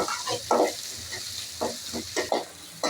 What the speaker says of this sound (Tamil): வெங்காயத்தை அதில் போட்டுடலாங்க.